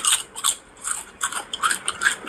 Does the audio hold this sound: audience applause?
no